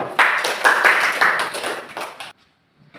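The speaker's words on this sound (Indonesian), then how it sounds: "Oke, ya betul sekali. Tepuk tangan." A classroom of students claps for a correct answer during a discussion lesson, a short burst of close, uneven hand claps that stops abruptly after about two seconds.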